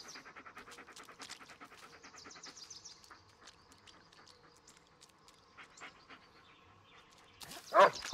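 A dog in the Blair Witch video game pants in quick, rhythmic breaths close by, fading into quieter breathing, with a sharp louder burst near the end.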